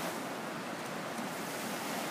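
Ocean waves wash onto a beach in a continuous, even rush of surf that holds steady throughout, with no voices.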